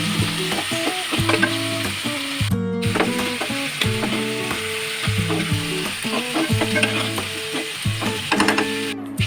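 A fish head and pumpkin mixture stirred slowly in a frying kadai: constant loud sizzling with a steady run of rattling, scraping strokes close by, and no talking.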